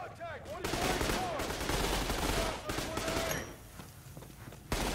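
Gunfire in the first-person shooter Trepang2, dense bursts of rapid automatic shots with shouted voices mixed in, loud and continuous before a single sharp report at the end.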